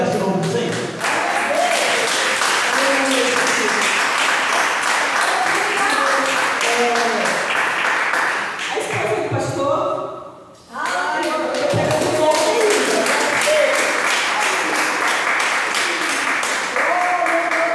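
Church congregation applauding during a Sunday family worship service, a dense, sustained wash of clapping that fills the hall, dipping briefly midway before swelling again, with voices mixed in underneath.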